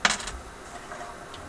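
A loose metal washer inside a Seabreeze stereo record player, a quick cluster of bright metallic rattles and clinks up close at the start, then a faint single tick later over quiet background.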